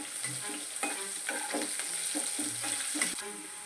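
Green chillies frying in a pan for crispy poha bhel, a constant bright sizzle with a few rhythmic stirring scrapes, close and moderately loud, no talking.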